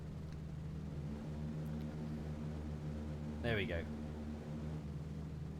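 Four-engine B-17 bomber in a World War II flight game, its engines a steady, low, even drone running quietly through the whole stretch beneath a brief spoken remark.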